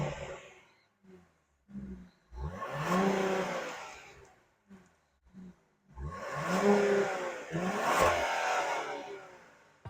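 2023 Genesis GV80 Advanced all-wheel-drive 3.5-liter twin turbo V6 starts and revs in several blips, with two longer, louder revs rising and falling between short bursts.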